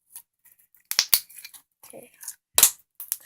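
Several sharp, crisp pops and snaps of slime bubbles bursting in quick irregular succession, close up, with brief quiet gaps between them.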